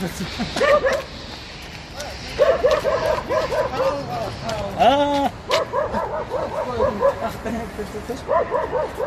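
Several dogs yip and bark in quick, repeated bursts, some drawn into whiny howls, fairly close and loud throughout.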